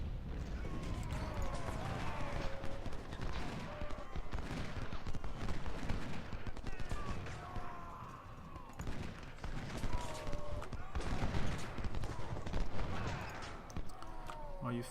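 Musket and rifle volleys from Civil War units in the strategy game Ultimate General: Civil War, a distant, rolling crackle of scattered shots that swells and fades over a noisy battlefield, with a voice talking over it.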